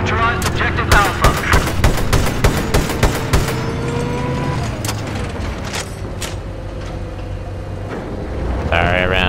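Rapid video game gunfire rattles loud and close in dense bursts of shots, then thins out as engine and vehicle noise and a voice take over toward the end.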